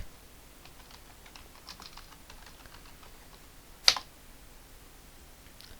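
Computer keyboard typing a search for a light effect in Photoshop, a quick run of soft, faint key clicks followed by a single sharper click, with no speech.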